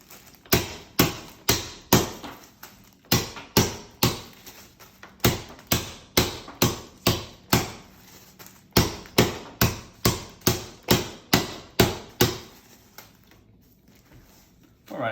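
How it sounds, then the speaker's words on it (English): Coffee beans are smashed with the heavy end of a grinder, producing a steady series of sharp, close thuds and cracks at roughly half-second intervals, with a brief pause midway and none at the end, with no talking. "making sure to use the heavy end of the grinder, we're just going to smash up the beans."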